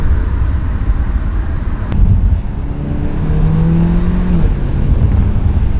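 A car fitted with an ECS Tuning downpipe accelerates hard from second into third gear, its exhaust a loud, rough, continuous drone with a brief dip at the shift, heard from inside with no talking.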